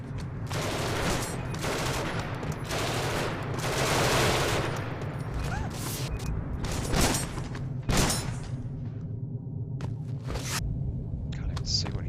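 Gunfire in the sci-fi video game Genesis Alpha One: several bursts of shooting over a steady low rumble, a few sharp louder cracks standing out, with some talk mixed in.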